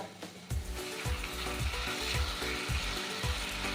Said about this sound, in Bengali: এবার একটু আস্তে আঁচ দিয়ে ভালো করে ভাজতে হবে।